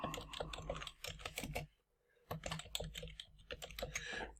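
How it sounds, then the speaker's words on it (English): Information is typed on a computer keyboard in quick, clattering bursts of keystrokes, close and fairly quiet, with a short pause of near silence in the middle before the typing resumes. "I'm going to enter some information"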